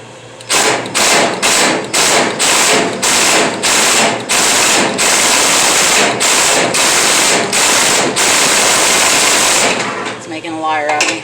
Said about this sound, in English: You need to use an impact. That way it gives it a quick jolt.